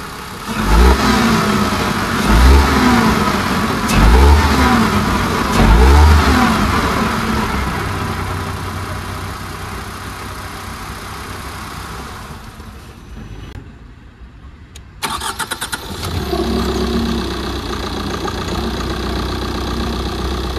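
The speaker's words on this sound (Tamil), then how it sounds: "ஃபர்ஸ்ட் நான் பெட்ரோல் இன்ஜினை ஸ்டார்ட் பண்ணி அதோட இன்ஜின் நோட்டை கேளுங்க." A Tata Altroz petrol engine starts and runs, opening with a few deep revving bursts that settle into a steady idle, then a brief dip and a return to a fuller running hum, close and loud.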